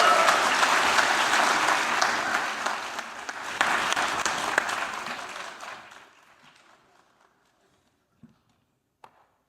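A live audience at a Fisher Poets reading in the Liberty Theater gives a poet a dense round of applause that holds steady, then fades out, leaving a few faint knocks and scattered claps.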